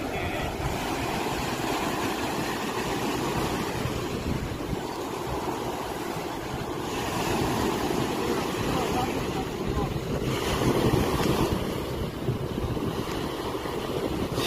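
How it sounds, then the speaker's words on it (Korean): Strong surf pounding a beach at Daejin on the Korean coast, a loud continuous wash of breaking waves buffeted by heavy headwind noise across the whole stretch, swelling louder near the end. "지금 파도가 워낙 세서"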